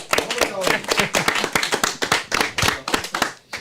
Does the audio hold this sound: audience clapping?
yes